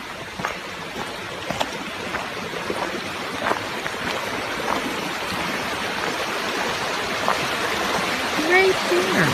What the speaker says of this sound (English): There's a beautiful little creek.